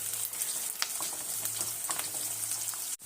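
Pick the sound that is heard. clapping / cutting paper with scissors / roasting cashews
roasting cashews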